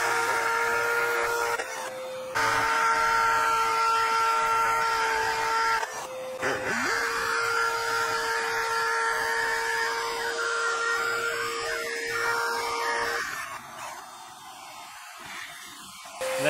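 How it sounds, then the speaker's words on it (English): A steady motor whine with a tonal hum runs continuously, pitch shifting a few times, as a hammer drill bores holes alongside a running vacuum. "I already have my bit installed using my hammer drill here. So what I'm gonna do is turn on the vacuum"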